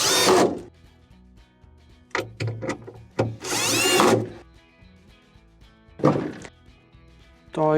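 Two screws driven into a GE refrigerator rail with a power driver, giving short whirring bursts separated by pauses, close and fairly loud, mixed with a few handling knocks.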